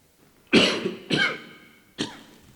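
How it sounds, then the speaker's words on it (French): Three sharp coughs from one person, close and distinct, with short pauses between them and quiet in between, during a president's speech. "durant les 8 dernières minutes, il a toussé à 4 reprises"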